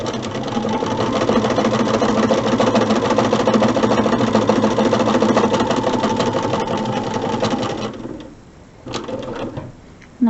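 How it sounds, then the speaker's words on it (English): Sewing machine stitching quilt corner-unit pieces with a quarter-inch seam, a loud steady mechanical whir for about eight seconds that then slows and stops, followed by a couple of brief quieter bursts. "And I'll take a few stitches off because I'm going to chain piece these."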